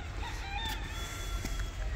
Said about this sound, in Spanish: ¿eso que gritó qué? Un gallo.